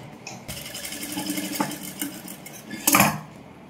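Sewing machine running steadily while understitching the lining of a princess-cut silk blouse, a close, continuous whirring rattle that starts after a brief pause and carries through to a louder burst near the end, with no talking.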